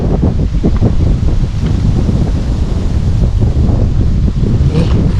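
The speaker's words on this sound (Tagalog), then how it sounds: "lakas na palakas po yung hangin" Strong, steady wind roars and buffets the microphone throughout during airgun fishing outdoors, with a rustling, gusty rush and no voices.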